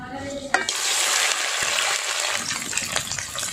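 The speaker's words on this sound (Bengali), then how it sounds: "এবার ওই তেলেতে আমি কাঁকড়াগুলোকে ভেজে নিই।" Crabs fry in hot oil in a village-style kitchen, with a sharp clatter at the start and then a dense, continuous hissing sizzle that carries on alone without talk.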